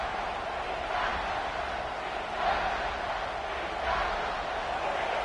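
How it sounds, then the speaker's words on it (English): A big football stadium crowd roars steadily near the goal line during a Tennessee vs LSU game, a broad distant wash of cheering that swells slightly in places. "this big crowd doing everything possible to inspire this defense down here near the goal line"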